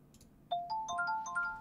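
In a hand-drawn dating video game, a phone rings with a bright, chiming electronic melody of quick stepped notes at moderate volume over a faint background.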